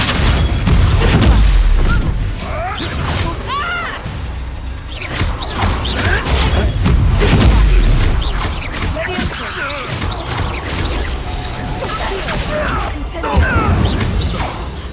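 In Hogwarts Legacy, the Confringo fire spell sets off loud, repeated booming explosions with crashes and whooshes of combat throughout, while a voice shouts intermittently over the din.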